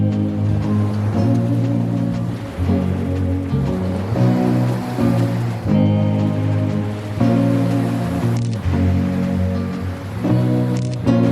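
Ocean surf rolls onto a scenic beach in a steady, loud wash of breaking waves with recurring surges every couple of seconds, close and continuous, with no voices.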